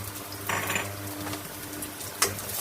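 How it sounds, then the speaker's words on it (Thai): Garlic dropped into hot oil in a pan sizzles with a steady, fairly quiet frying hiss, marked by a brief utensil scrape and a sharp clink near the end. "ใส่น้ำมันลงไปแล้วนะคะน้ำมันก็เริ่มร้อนแล้วนะคะ แล้วก็ใส่กระเทียม ใส่กระเทียมลงไปนะคะ"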